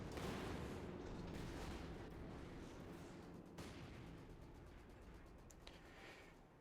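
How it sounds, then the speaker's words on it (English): A railway gun fires in a video game, a faint, deep, rumbling blast with a long fading roar and a couple of sharper reports over several seconds. "I want to see the railway gunshot."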